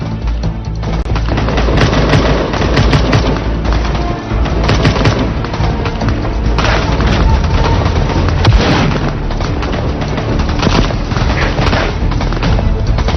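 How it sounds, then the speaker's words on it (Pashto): Gunfire in a Turkish period drama, with rapid bursts of automatic shots mixed with heavy booms and explosions, loud and continuous throughout a battle scene. "دا د ډزو غږونه څنګه اورېدل کېږي"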